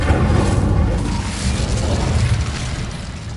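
Incendio fire spell cast in the video game Hogwarts Legacy, a loud whooshing burst of flame with a deep booming rumble that fades slowly over a few seconds.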